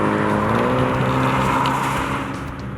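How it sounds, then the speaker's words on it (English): A 2019 Mini John Cooper Works with its sports exhaust revs loudly and steadily, a dense engine drone filling the clip up close before easing slightly near the end. "The JCW does have the sports exhaust and it's much louder than the standard car."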